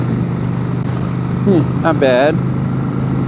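A 2006 Honda Shadow VT750 motorcycle engine pulling uphill in fifth gear, a loud, steady, low drone under a brief spoken remark from the rider.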